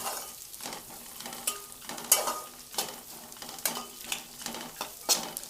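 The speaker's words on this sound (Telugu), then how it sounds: "ఈ ఉల్లిపాయ లైట్గా వేగిన తర్వాత ఈ జీడిపప్పు వేసేయండి" Cashews and onions fry in a pan over medium flame for jeera rice, a steady sizzle punctuated by quick rhythmic spatula scrapes about every half second.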